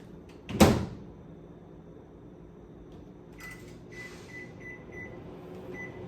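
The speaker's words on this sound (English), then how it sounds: "throw that in the microwave for 3 minutes" A single sharp clunk of a microwave oven door shutting, followed by a quiet steady hum of the running microwave with a few soft high beeps.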